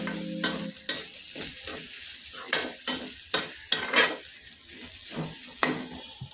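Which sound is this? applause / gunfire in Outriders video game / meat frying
meat frying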